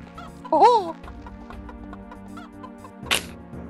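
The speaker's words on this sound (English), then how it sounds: "shoot the flying chicken in here" Chicken clucking in the shooter game Brutal Heretic, a loud warbling squawk near the start, then game music and effects continue, with a sharp burst toward the end.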